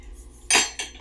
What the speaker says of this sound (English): and then we're gonna get going with the stir frying.